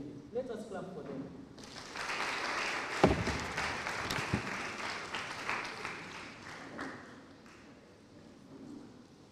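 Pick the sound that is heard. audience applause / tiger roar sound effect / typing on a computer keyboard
audience applause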